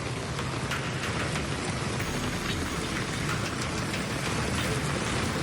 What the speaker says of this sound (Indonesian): Angin kencang disertai hujan deras menerjang kawasan wisata kuliner di Pantai Selatan Bangkalan